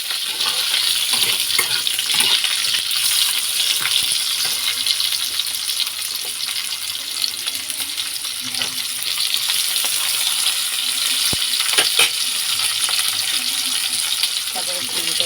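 Radish pieces fry in hot oil with cumin seeds for a vegetable dal, giving a steady, even sizzle with small crackles and occasional utensil clinks, while a person talks.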